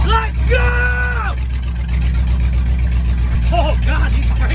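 A converted truck-to-Blazer hot rod pulls away with a deep, rumbling engine drone held low and steady, while voices talk and call out excitedly over it.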